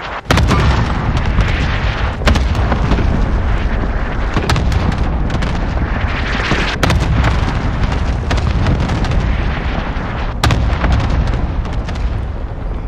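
Called-in artillery strike in Call of Duty Warzone, a loud sustained barrage of deep booming explosions with sharp blasts punching through every second or two, rumbling continuously throughout.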